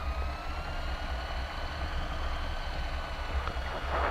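A Piper PA28 light aircraft's engine taxiing on the ground makes a steady, loud, droning rumble that holds evenly throughout with no speech.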